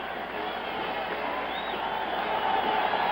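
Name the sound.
stadium crowd applauding Joe Namath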